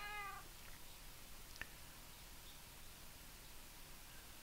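A single short cat meow from the video game Minecraft at the very start, fairly faint, followed by a steady hiss of background noise and one tiny click.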